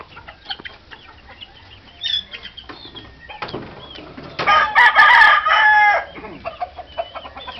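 Chickens cluck and flap their wings at close range, then a rooster gives one loud, drawn-out crow that stands out clearly above the softer barnyard noises.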